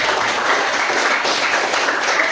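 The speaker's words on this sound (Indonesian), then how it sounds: "Oke, tepuk tangan buat." A group applauds together, a dense, steady wash of clapping hands filling the short moment at close range without any talk over it.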